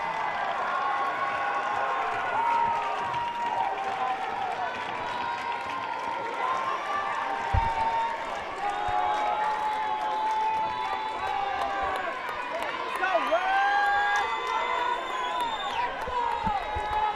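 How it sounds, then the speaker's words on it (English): Fans at a 6A high school softball championship game cheer and call out in a steady crowd roar, with whistles and a few claps, while a commentator talks over it. "The Riverton fans are trying to cheer on Case and Korth"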